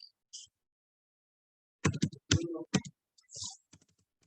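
Keystrokes on a computer keyboard while entering a formula, heard as a quick burst of close clicks and taps with short pauses, following a quiet stretch and a couple of isolated clicks.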